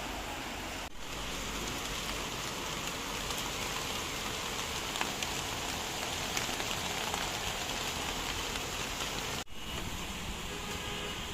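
Heavy rain pours steadily outside a house during flooding, a dense, even hiss of drops with no voices, broken only by brief cuts near the start and end.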